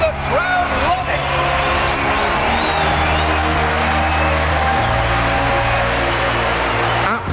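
A big crowd at the IEM Katowice League of Legends match roars and applauds for the whole stretch after a game-winning play, loud and sustained, with commentators talking over it before the noise cuts off abruptly.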